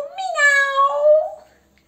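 A single long, drawn-out meow, rising then falling, voiced by a person imitating a cat, clear and close.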